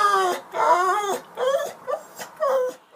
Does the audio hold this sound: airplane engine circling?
no